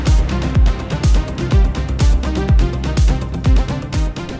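Synth preset recreating a popular electronic music sound, with punchy bass hits pulsing in a steady rhythm under a bright, rich analog-style chordal tone, loud and alone.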